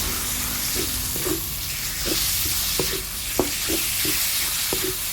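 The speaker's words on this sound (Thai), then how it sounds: "พอพริกแกงหอมแล้วเราก็จะเอาหมูสับลงไปผัดเลยนะคะ" Minced pork stir-fried with curry paste in a hot pan for a spicy pork and pickled bamboo shoot dish, a steady close sizzle broken by repeated scrapes and clinks of a spatula stirring, no talking.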